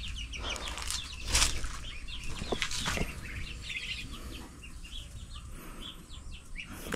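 Large feed-raised chickens cluck and chatter in a busy coop, with scattered calls, a brief flurry of wings, and steady low background noise throughout.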